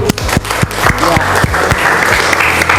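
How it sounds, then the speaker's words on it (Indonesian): Students in a high school classroom applaud after a group presentation, a brisk burst of close, dense clapping that carries on steadily, with a few voices mixed in. "Kita tepuk tangan dulu."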